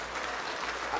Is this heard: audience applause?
yes